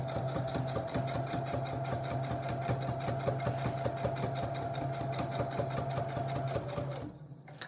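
A sewing machine stitches steadily along a welt zipper for a bag lining, white thread on white fabric, sewn slowly and evenly at close range before stopping abruptly near the end.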